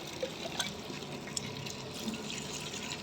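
Water splashing and trickling steadily as animals are bathed outdoors in summer heat, a continuous close wash with small drips and splashes and no talking.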